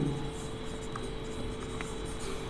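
Chalk or marker writing on a board during a matrix algebra lecture, a steady soft scratching that runs the whole time under a constant room hum.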